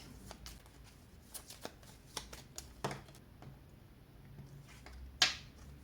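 Tarot cards are shuffled and drawn at a reading table, a series of faint, soft riffles and taps close by, ending in one sharper card snap, with no talking.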